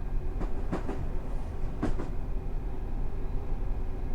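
A Class 460 Gatwick Express electric train runs on the Brighton Main Line in Train Simulator, giving a steady rumbling roll with a few sharp rail clicks and clunks near the start, heard close and fairly loud throughout.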